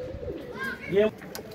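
Rooftop pigeons coo close by, giving a short throaty rolling call that swells near the end while someone talks over them.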